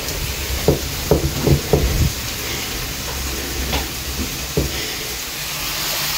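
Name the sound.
ginger garlic paste added to frying onions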